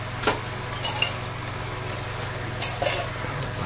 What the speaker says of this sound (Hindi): मम्मी इधर पे बर्तन धो रही हैं।